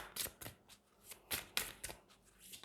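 Oracle cards being shuffled by hand: several quick, crisp riffles and flutters of card stock close up, with a few soft slaps as cards fall, all quiet and without talk.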